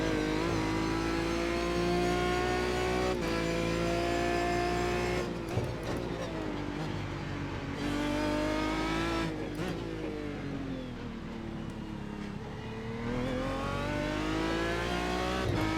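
In the iRacing sim at Road Atlanta, a GT1 race car's engine revs hard through rising and falling gear changes, with brief lifts and tires squealing under strain, loud and continuous.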